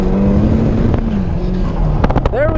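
Nissan S13 drifting on track with softened front tire pressure, a loud sustained engine drone sliding in pitch, with tire squeal rising near the end, heard up close.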